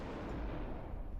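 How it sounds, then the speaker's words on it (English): A single booming gunshot in Path of Exile 2, with a deep blast and long reverberant tail that fills the whole moment at a steady, loud level. "Hear the gunshot"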